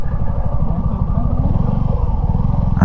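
Motorcycle ridden down off a mountain road, its engine putting out a close, steady, pulsing chug with some clatter over rough ground.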